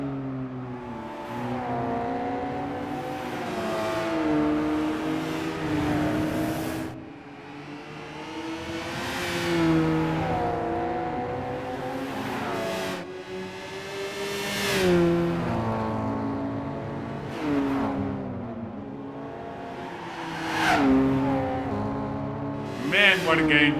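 A Honda S2000 race car in Gran Turismo 5 screams through repeated upshifts and rising revs, its engine pitch climbing and dropping over and over, with someone talking over it.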